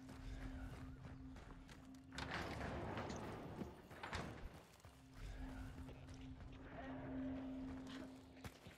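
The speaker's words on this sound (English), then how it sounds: "Oh, there's a horse." Horse hooves clatter in Hunt: Showdown, a steady clip-clop running through the whole stretch over a low hum and rustling ambience, with louder bursts partway through.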